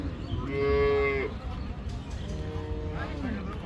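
A Friesian cow moos twice at an outdoor cattle market in Dinajpur, a long loud low call followed by a second, fainter one, over a steady crowd murmur.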